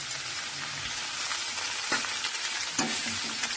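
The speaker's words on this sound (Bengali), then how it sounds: "এই আলুগুলো আর এই লাউটা এর মধ্যে দিয়ে দিল কড়াইয়ে" Cut potatoes and bottle gourd sizzling in hot oil in a wok, a constant loud crackling hiss with a few soft knocks and stirring scrapes near the end.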